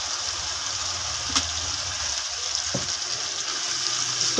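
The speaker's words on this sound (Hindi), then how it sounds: "जरा सा पानी शामिल करेंगे" A little water goes into masoor dal frying in a pan with chillies, turmeric, salt and tomato, giving a steady close sizzle and bubbling with a couple of faint clinks.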